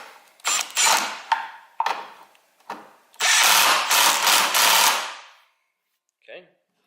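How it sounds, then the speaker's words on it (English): Nut spun and ratcheted onto the wheel of a TimeMaster 30-inch mower, several short mechanical whirring bursts followed by a longer sustained ratcheting run, close and loud, then a brief faint click. "Thread the nut."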